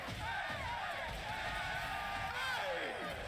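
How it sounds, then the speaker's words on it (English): A crowd at a Smash Ultimate tournament final cheers and whoops continuously, a dense roar of voices that stays loud through the whole stretch. "Crowd is going nuts."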